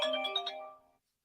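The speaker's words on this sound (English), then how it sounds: "What grown black man uses this phone? And this phone ring?" A cell phone ringtone plays alone: a short, bright melodic chime with a few stacked tones that rings clearly and then fades out in under a second.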